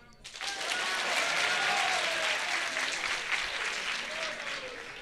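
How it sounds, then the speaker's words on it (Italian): Applause swells quickly from a crowd and stays full and continuous, with a faint tonal sound drifting underneath. "Applauso."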